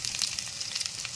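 Ginger and onions sizzle and crackle in hot oil in a pan for Andhra-style upma, a close, bright frying hiss with small pops throughout.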